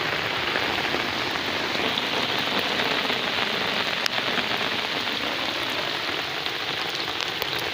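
Steady, dense rain pours down over farm fields, a continuous close hiss with no pauses and no voices.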